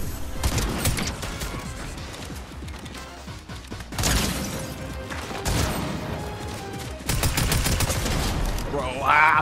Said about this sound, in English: Okay, airstrike.